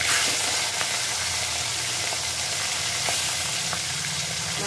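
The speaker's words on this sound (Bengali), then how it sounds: "তেলটা ভালো করে গরম হয়ে গেলে এবার আমি মাছের মাথাটা এর মধ্যে ভেজে নেব" Fish heads rubbed with salt and turmeric frying in hot oil in a wok, a steady close, loud sizzle with faint crackles and a few soft pops throughout, no voices.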